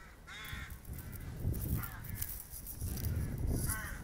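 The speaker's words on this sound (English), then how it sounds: "Not ravens, a crow, sorry. All the crows together." Several crows caw outdoors on a sunny walk, harsh calls repeating in bursts at moderate distance over faint background noise, with no one speaking.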